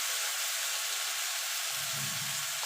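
Ground masala spices, with a pinch of sugar, sauté in a hot pan for a Bengali jackfruit (echor) curry, giving a loud, steady sizzle throughout with a low stirring rumble toward the end and no talk.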